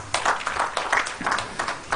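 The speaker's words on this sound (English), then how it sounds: "Let's give them a round of applause." A round of applause rises from an audience at a Labour Day celebration honoring workers, scattered and fairly distant clapping of moderate level with irregular individual claps standing out.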